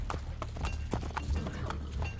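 Horse hooves clip-clop at a steady pace through the streets in Assassin's Creed: Brotherhood, a quick rhythmic patter running the whole way under game ambience.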